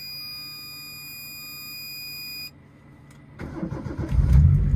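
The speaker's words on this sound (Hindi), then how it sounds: "आपके सामने भाई साहब फर्स्ट ऑफ स्टार्ट है" A Honda Civic RS Turbo starting up on its first crank, with a chime-like tone fading out before the engine catches and builds into a loud, close rumble.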